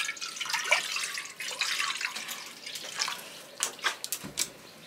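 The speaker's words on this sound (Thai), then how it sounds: "มาเทน้ำก่อน" Water is poured and splashed at a roadside fish stall in Champasak, Laos. The sound comes as fairly faint, uneven trickles and spatters that build into sharper splashes toward the end.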